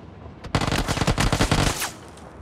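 Rapid burst of automatic gunfire from a bot in PUBG on a bridge in Vikendi, a close, loud string of shots lasting about a second and a half before cutting off.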